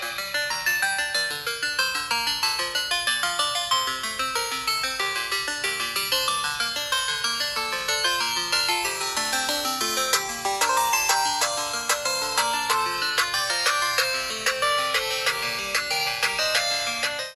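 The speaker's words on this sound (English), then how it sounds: "Now let's test the sound quality of this smartphone" A bright electronic ringtone melody plays continuously through a Realme 6 Pro phone speaker, loud and tinny with little bass, repeating its pattern without pause.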